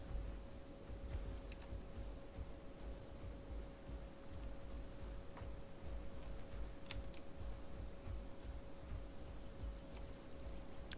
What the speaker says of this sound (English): You also get to hear the keyboard.